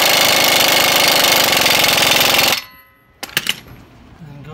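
A power tool tightens the CV axle nut on a Ford Bronco Sport during a lift install, a loud continuous rattling burst for about two and a half seconds up close, followed by a couple of sharp clanks.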